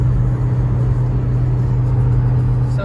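A Skoda engine hums steadily while the car drives in third gear, a constant low drone and road rumble heard alone, loud and close.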